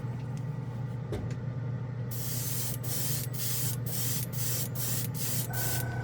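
Badger Patriot airbrush spraying OdenKan Final chrome paint, a steady close hiss that starts partway in and pulses in short bursts over a constant low background hum.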